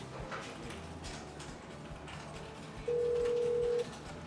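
A Yealink T7/T8 series IP desk phone placing a speed-dial call: one steady electronic call tone about a second long rises over a quiet mechanical background hum, with no talking.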